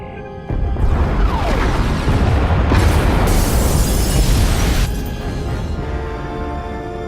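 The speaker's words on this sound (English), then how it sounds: "Pod bays are destroyed." Pod bays blowing apart in the Star Wars: The Old Republic video game: a loud, sudden roaring blast that surges into a long, dense rumble, then drops to a lower rumbling tail.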